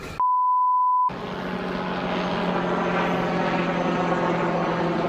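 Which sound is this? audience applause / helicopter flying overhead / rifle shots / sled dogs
helicopter flying overhead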